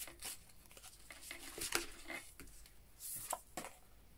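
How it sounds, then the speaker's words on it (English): Tarot cards being shuffled by hand, giving a quick series of soft papery riffles and slaps that come in bursts, close and fairly quiet, with no talking. "Shuffle, shuffle, shuffle."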